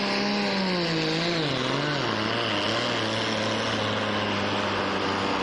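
A Light Limited Super pulling tractor, the T6, runs hard at a tractor pull. Its engine drones loud and continuous, with the pitch sliding down as the RPM drops, and there is no talk over it.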